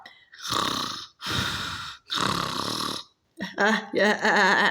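Three long, rasping snore-like breaths from a voice imitating snoring, each a second or so, followed by a short burst of other vocal sounds.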